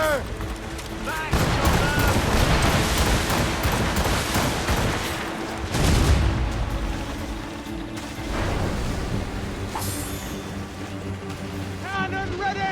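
Naval cannon broadsides in the Assassin's Creed Rogue video game, with heavy rumbling booms and rattling volleys over creaking ship noise and crew voices shouting in the background.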